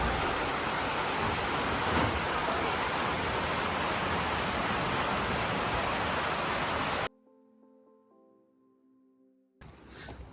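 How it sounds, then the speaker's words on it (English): Evening rain in Suriname, a dense, loud hiss of heavy downpour for about seven seconds before it cuts off abruptly, followed by quieter tonal sounds and a brief return of noise at the end. "in the evenings it's raining. It was even lightning"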